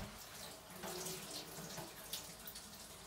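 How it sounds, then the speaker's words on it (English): Water from a kitchen tap runs steadily over hands being washed at a sink, a continuous close splashing hiss for a few seconds with small shifts as the hands move under the stream. "once I wash my hand"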